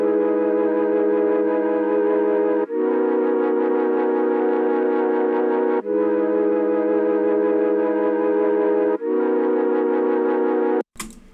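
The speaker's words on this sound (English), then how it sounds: "I'm getting these from an Arturia plugin called Mellotron 5." Main chords from an Arturia Mellotron 5 plugin for a trap track, four sustained harmonic chord blocks each about three seconds long, loud and alone, with a slight wavering texture and an abrupt cutoff at the end.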